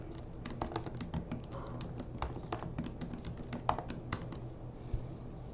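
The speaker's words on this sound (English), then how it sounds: "I'm just going to start typing" Rapid typing on a computer keyboard, a steady run of close, crisp key clicks with a few louder taps, alone with no talking.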